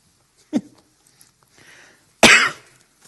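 A person coughs once softly, then after a short pause lets out a single loud, harsh cough up close, with quiet in between.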